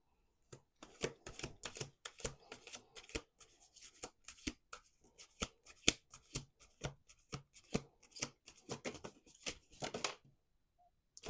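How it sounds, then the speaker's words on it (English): Tarot cards shuffled by hand at a table in a card reading, a long run of quick crisp riffling snaps and soft slaps in uneven bursts, close and clear with no talking, ending in a short pause. "Two more shuffles."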